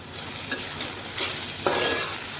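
Onions fry and are stirred in a pan over low heat while a dish of dried small shrimp cooks; steady sizzle with a few soft scraping stirs, close, no talking.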